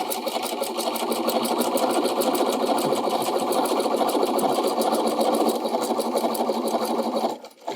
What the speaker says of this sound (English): make sure if you have a needle down feature on your machine, you use it